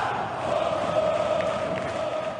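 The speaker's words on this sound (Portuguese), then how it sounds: "e a torcida tá lá" Botafogo football fans in a stadium, a massed crowd chanting and roaring continuously at a distance, a steady sustained swell of many voices.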